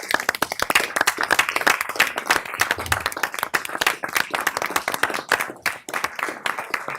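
Applause at a county board meeting: a room of people clapping steadily and fairly loudly for about seven seconds, dense overlapping hand claps with no talk over them.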